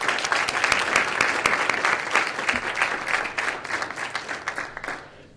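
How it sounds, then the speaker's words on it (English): Audience applause fills a lecture hall at the Pullias Lecture on higher education, a dense, steady wash of many hands clapping that holds strong, then thins and dies away at the very end. "Let's give them a round of applause"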